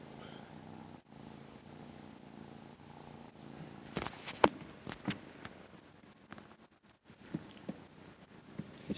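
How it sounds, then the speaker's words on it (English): A small stray kitten found outdoors purrs in a low, steady rumble close by, broken by a few brief louder rustles and clicks midway, with no talking. "So, this is a little kitten that we found outside."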